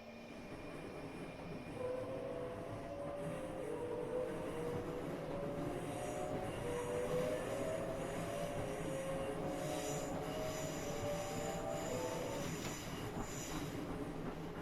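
A train on the London–Faversham High Speed line runs on its rails with a steady close rumble, while drawn-out wheel squeals rise and fall over it and no one speaks.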